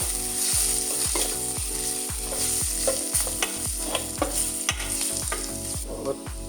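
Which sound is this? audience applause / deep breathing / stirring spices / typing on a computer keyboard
stirring spices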